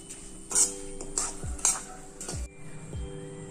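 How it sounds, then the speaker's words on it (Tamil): Chilli powder and ground rock salt being stirred into chicken pickle in a metal vessel, a few spaced scrapes and clinks of a spoon against the pan, close and fairly quiet, with no talking. "நல்லா கலந்துக்கலாம்."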